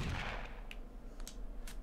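Faint, distant-sounding gunshots ring out in the zombie shooter game Zombie Hunter Inc. A few sharp cracks are spaced roughly half a second apart over a muffled, rumbling background, with no talking over them.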